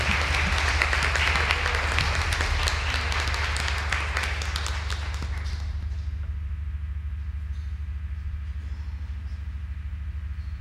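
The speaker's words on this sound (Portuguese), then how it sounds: "vamos aplaudir aquele que é digno de toda a glória" A church congregation applauds together in a dense, sustained wash of clapping that fills the first half, then thins to a quieter tail as the clapping tapers off.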